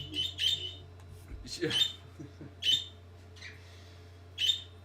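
Repeated high chirps from small birds come in separate bursts every second or so, close and moderately loud above a constant low hum.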